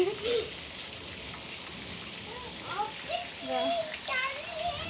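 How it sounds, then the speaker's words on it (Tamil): Steady rain patters close by indoors, water dripping inside a house, with children's voices chattering and calling over the constant hiss of falling water. "தெரியுதுங்களா தண்ணி சொட்டிட்டு இருக்குது"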